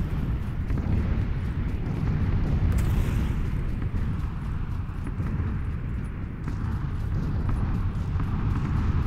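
Red zone bombing in PlayerUnknown's Battlegrounds produces a dense, continuous roar of explosions and rumbling. It stays loud and close the whole time, with no voices.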